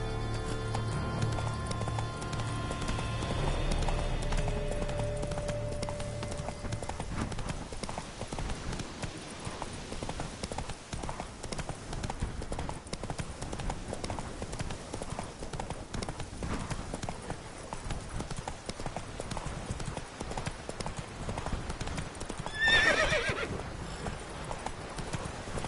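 Hooves clip-clop at a gallop from a horse in The Witcher 3 video game, steady and fairly close, with a whinny early on and a brief bright burst near the end; no talk over it.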